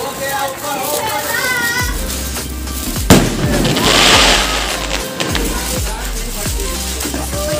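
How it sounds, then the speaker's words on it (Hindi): Firecrackers and fireworks go off outdoors for Govardhan Puja, the day after Diwali, with repeated sharp pops, one loud bang and a hissing burst, while children and adults talk and shout in the background. "और इसमें बहुत सारे पटाखे भी हैं"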